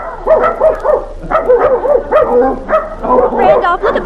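Dog barking at a dog pound, a sound effect in a 1944 old-time radio comedy, with repeated yips and barks in short bursts sounding close and loud, mixed with talk.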